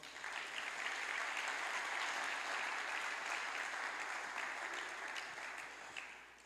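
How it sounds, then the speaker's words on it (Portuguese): A church congregation applauds, a dense, even roar of many hands clapping at a distance that swells quickly, holds steady and tapers slightly at the close. "Você pode aplaudir o Senhor?"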